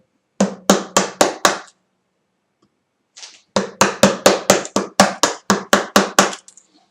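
A mallet's softer face strikes a woodworking chisel while cutting wood, a quick run of five sharp knocks, a pause, then a longer series of about ten close, evenly spaced blows.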